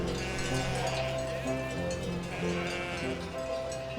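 Sheep bleat and mill about on the cobblestones of a village square in the video game Wytchwood. Layered, steady bleating with a faint bell-like jingle fills the scene at moderate volume.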